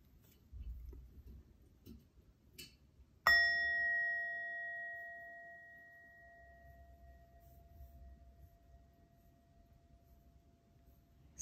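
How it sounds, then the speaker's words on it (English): A soft meditation bell is struck once and leaves a clear, sustained ringing tone that fades slowly over several seconds in an otherwise quiet room. "I'll ring a soft bell to begin and end the practice."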